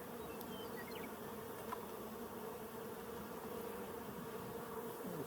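A dense, continuous buzzing of many honey bees swarming close by at an opened hive, steady and unbroken with no voices.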